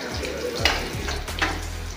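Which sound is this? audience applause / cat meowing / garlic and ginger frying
garlic and ginger frying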